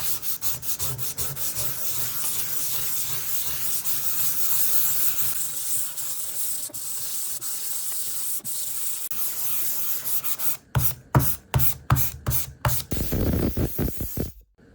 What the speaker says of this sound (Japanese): 今から、360番で磨いていきます。 磨くというよりか、これは足付けですね。